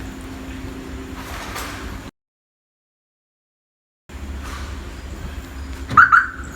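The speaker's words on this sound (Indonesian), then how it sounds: "itu bunyi sirinenya untuk menandakan mobil ini sudah terbuka" Background hum, a gap of silence, then two short high chirps from a Honda Civic Genio's alarm signalling the doors unlocking via keyless entry.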